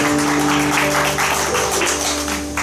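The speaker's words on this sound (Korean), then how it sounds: "위대하신 왕께 우리 박수로 올려드렸으면 좋겠습니다" Worship congregation clapping in praise to the king during a Korean church service, a loud, dense burst of applause over a sustained musical tone, fading slightly at the end.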